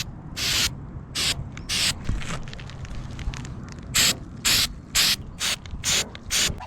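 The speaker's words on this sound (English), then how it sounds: "what we're gonna do is coat these with our Flex Seal, and that'll protect the metal from rusting out" Flex Seal spray coating hisses onto metal drain screens on a roof in about a dozen short bursts, some clustered quickly, over a low background rumble with no talking.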